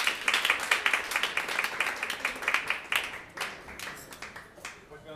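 A crowd applauds with dense, steady clapping that holds for several seconds, then thins out toward the end.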